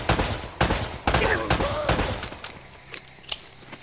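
Rapid, loud gunshots in Uncharted, a close series of sharp cracks at an irregular rhythm that thins out into a few scattered shots, with a voice briefly audible underneath.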